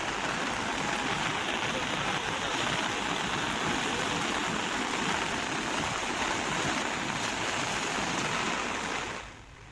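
Flooded river surging after a monsoon downpour of heavy rain, a dense, continuous roar of rushing water that holds steady and loud before cutting off abruptly at the end.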